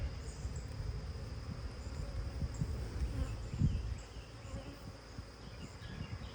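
Honeybees buzz in a dense, steady drone throughout an open beehive inspection. The hum is close and continuous with no talking.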